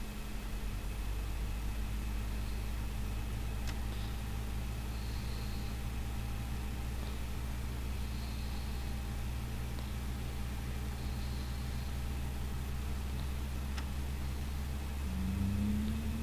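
An airliner engine spooling up during a startup sequence in Microsoft Flight Simulator 2020, a Vueling flight from Barcelona to Valencia: a steady low hum and hiss, with a rising whine entering near the end, fairly quiet and without voices.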